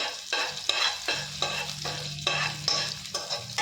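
Chopped ginger frying in a pan, a steady sizzle broken by rhythmic stirring strokes that repeat about twice a second, close and fairly loud, with no voices.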